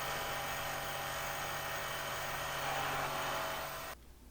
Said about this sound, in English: switch over to my keyhole bit to remove the material on the bottom here